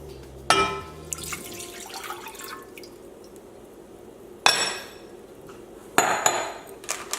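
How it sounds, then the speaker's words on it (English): Water for boiling rice goes into a pot in a home kitchen, with clinking of metal and glass and splashing in short bursts separated by quieter gaps. "We're going to boil the rice, so we're going to add 1 1/4 cups of water."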